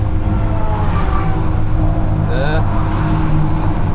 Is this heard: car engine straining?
yes